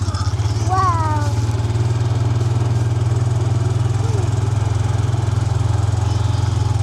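A four-wheeler engine runs steadily with a constant low hum on a pasture farm, holding an even level throughout the clip with a brief voice near the start.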